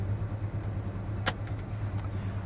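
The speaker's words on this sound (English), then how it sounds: "We're idling nicely. 383 sounds good." A 1969 Dodge Super Bee's 383 engine idles with a steady low rumble at moderate volume, broken by a single brief click partway through.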